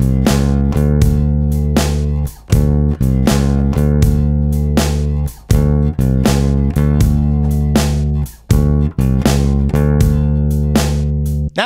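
An electric bass plays a 12-bar blues turnaround in a steady rhythm, with repeated plucked notes, short gaps, and a clear, loud tone without any voice.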